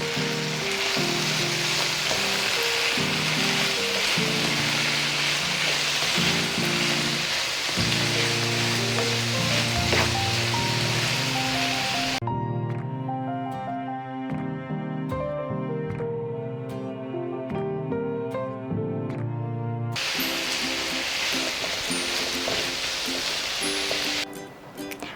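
Green, red and yellow capsicum pieces sizzle hard on a high flame for chicken macaroni, giving a loud, continuous frying hiss with occasional stirring scrapes throughout.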